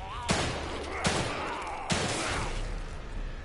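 Three loud, evenly spaced gunshots from a gun in The Evil Within 2, each a sharp close blast with a short decaying tail over a low rumble.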